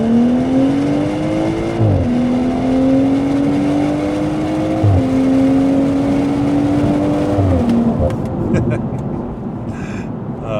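A tuned BMW 540i G30 xDrive with its B58 engine, raised from 340 to 470 horsepower in a Stage 2+ tune, accelerates hard from inside the car, its engine drone climbing through three gear changes, loud and steady before easing at the end.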